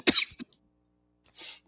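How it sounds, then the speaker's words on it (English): A person recovering from a virus gives a sharp cough followed by a smaller one, then after a pause a breathy throat-clearing hack, close to the microphone with no talk. "Sorry, I thought I switched off my mic when I went coughing."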